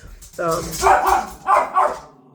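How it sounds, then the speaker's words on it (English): Several dogs bark in two loud bursts close by, with a short yip and some whimpering, a voice speaking over them in a home setting. "the dogs are really going at it."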